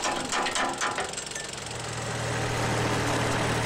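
A tractor engine on an aquaponics farm runs in a steady, loud, close drone with a rough rumbling texture that settles into an even low hum.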